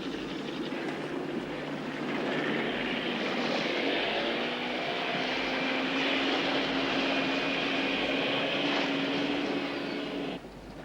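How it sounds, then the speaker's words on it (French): A helicopter flies steadily and fairly close, its rotor and turbine drone holding level for about ten seconds before cutting off abruptly near the end. "On prend mon hélico."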